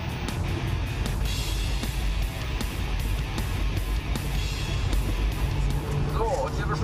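A Volvo S60R with a 2.5-litre turbo engine at speed on a race track gives a loud, steady, close engine roar that holds throughout without a break.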